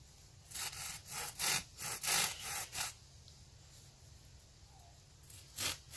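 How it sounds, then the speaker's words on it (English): A blade saws notches into a wooden stick at a camp build, with a series of short, close rasping strokes in quick bursts, a pause, then two more strokes. "I'm going to make notches along here that I can just set on this other stick"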